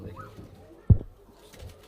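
High-flying domestic pigeons in a loft coo softly over a brief moment, with a sharp thump midway and faint voices around.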